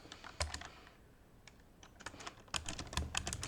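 Fingers type on a computer keyboard in a quiet room, with a burst of close clicks, a sparse pause, then a second fast flurry of keystrokes, fairly soft and alone.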